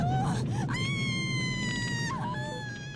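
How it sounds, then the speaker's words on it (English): A woman screams in a long, sustained wail in a horror film car crash scene as the car spins, with a steady rumbling background beneath the shrill, wavering cry. "the woman keeps screaming in the same way when the car keeps spinning"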